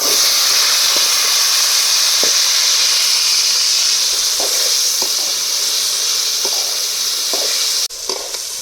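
Gooseberries sizzling and hissing steadily in hot oil with popped mustard seeds, loud and close, with occasional faint stirring clicks and a brief clatter near the end.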